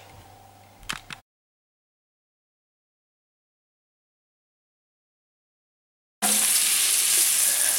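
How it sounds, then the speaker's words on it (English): Steady, loud sizzling of floured beef frying in hot olive oil, starting abruptly after a brief stretch of silence and continuing evenly to the end. "I'm just frying it in the olive oil now to seal it for a couple of minutes."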